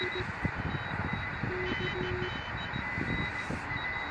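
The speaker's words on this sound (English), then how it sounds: "So these are real people communicating in Morse code in real time." Live Morse code signals come over a radio as rapid keyed beeps of dots and dashes, several overlapping tones pulsing against a constant hiss of static and wind noise.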